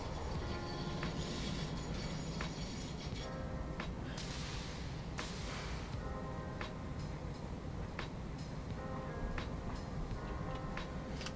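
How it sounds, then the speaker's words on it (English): A train rolls along in the factory-building game Satisfactory, giving a steady, continuous rumble with repeated clicking and ticking and a few brief louder bursts, with no talking. "I'm just going to leave this train running now."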